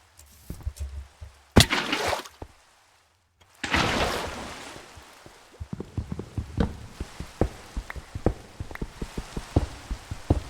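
Rain in the Minecraft video game comes as a patter of scattered, sharp drops on a surface, broken by a couple of louder splashy bursts and a short lull.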